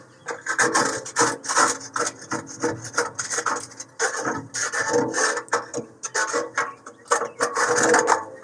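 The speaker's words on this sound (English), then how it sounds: "So what you want to do is you want to use something that would allow you to scrape it as much as that residue you can get out." Grease residue being scraped out of the grease trap of a Pit Boss pellet grill, giving repeated rough, rasping strokes in bursts, close up and fairly loud, with brief pauses between passes.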